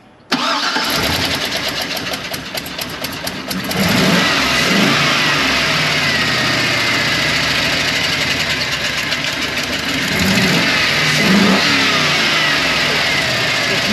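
An engine fires up after the fuel pump is primed and revs unevenly with a misfire, loud and close, the note rising and falling in rough surges.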